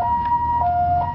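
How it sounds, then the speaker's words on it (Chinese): An ambulance siren wails with a two-tone alternating pitch, clear and fairly loud, over a low rumble of traffic in a narrow lane. "救护车开进狭窄巷弄中"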